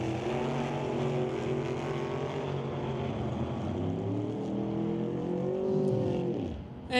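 Drag race cars on an eighth-mile strip in a heads-up grudge match, engines droning loud and sustained with a rising then falling pitch as they run, ending abruptly.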